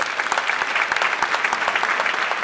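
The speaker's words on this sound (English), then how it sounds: "round of applause for that." An audience at Cadogan Hall during a concert claps in a brief, dense burst of applause that holds steady throughout.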